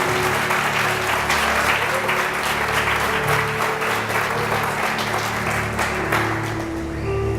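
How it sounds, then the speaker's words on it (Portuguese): Congregation at a Sunday-morning church service applauding steadily, a dense wash of many hands clapping at even loudness throughout, with a faint sustained tone running underneath. "Dê um aplauso ao Senhor Jesus."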